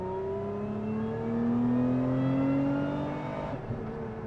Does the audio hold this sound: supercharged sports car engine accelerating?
yes